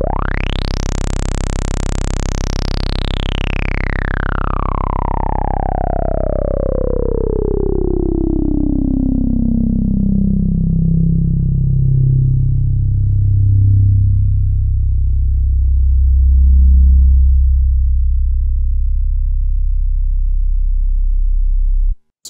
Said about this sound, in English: I'm gonna go crank the resonance on the synthesizer so we can hear what that sounds like